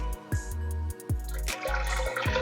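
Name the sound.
pouring thickened cooking liquid back into the pot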